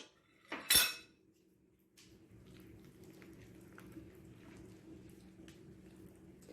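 Apple cake batter mixed in a heavy dish, opening with a sharp clatter of utensil on dish and then a soft, continuous stirring swish, quiet and close.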